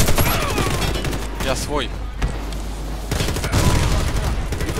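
Dense gunfire in the Warface shooter game, a steady crackle of rapid shots that drops briefly mid-way, with players talking and shouting over it.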